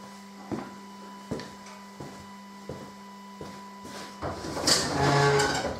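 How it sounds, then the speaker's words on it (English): A garage door opens, with a rattling, rolling rush rising near the end after a run of regular faint clicks over a steady low hum, heard at close range without talk. "If I open that garage door"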